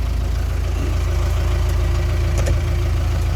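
Kubota M9960D tractor idling in neutral with the gear range in park, a steady low engine rumble and drivetrain hum running continuously and close, with a few faint clicks and no talking.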